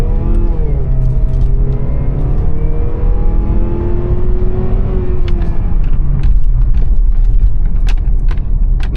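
A used car on a test drive accelerates with a steady, loud engine note rising smoothly in pitch, heard from inside the cabin with road rumble underneath.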